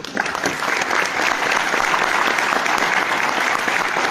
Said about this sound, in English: So give a round of applause to all the women sitting here today.